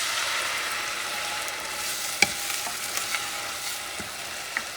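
Beef chili with peppers in rendered beef fat, sizzling steadily in a pan just after tomato sauce is poured in, a constant hiss broken by a few soft stirring knocks.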